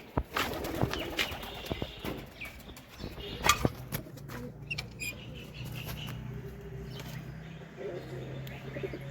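Desi golla pigeons giving soft, intermittent coos and small squeaky calls, close by, with scattered rustles and knocks.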